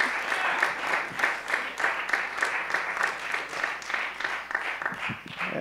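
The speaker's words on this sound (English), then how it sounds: "Let's clap it up for Anton Shuford" Comedy show audience clapping as a stand-up comedian takes the stage, a lively, rhythmic burst of many hands with a punchy, close feel, sustained throughout with some cheering voices mixed in.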